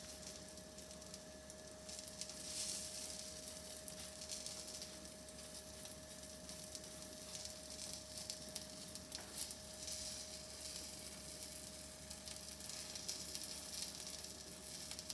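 Gozleme, a Turkish flatbread filled with chicken, feta and spinach, fries in olive oil in a pan, giving a steady, even sizzle that holds at a moderate level throughout with no talking.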